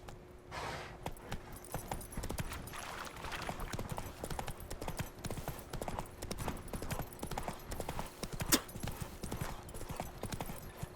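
Roach the horse galloping in The Witcher 3, a steady rapid clip-clop of hooves running continuously throughout at moderate volume, with a brief louder hit partway through.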